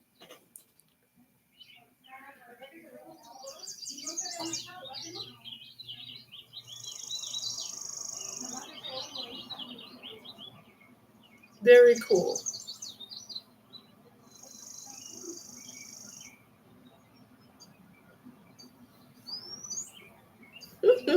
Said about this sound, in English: That's the purple finch, you guys, the state bird of the state of New Hampshire.